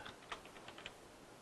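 Quiet, close computer keyboard typing a compile command, a short burst of several irregular key clicks against a faint room hush.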